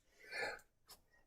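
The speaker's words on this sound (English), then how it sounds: "I think I just sneezed." One quiet sneeze from a man, an indoor burst of breathy noise followed by a brief second exhale, heard alone with no talk over it.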